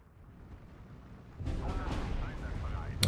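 Bombing of a mortar position in Steel Division 2, a sudden rumbling explosion swelling partway through and sustaining, with a sharp crack at the end over quiet battlefield ambience.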